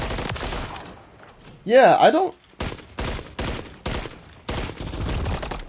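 A Longbow sniper rifle fires in Call of Duty: Modern Warfare III, shown in first person. One loud, ringing shot is followed by a string of sharp bursts, and someone talks briefly under the gunfire.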